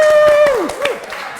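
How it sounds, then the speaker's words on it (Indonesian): Four people clap hands together in a studio, a quick burst of close claps layered with a falling electronic tone and a bit of background voice. "Ayo kita berempat tepuk tangan dulu untuk"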